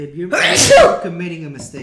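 A single sneeze bursts out near the start, mid-conversation, with talk continuing around it during a live session building a Bandai Figure-rise Standard Amplified Imperialdramon model kit.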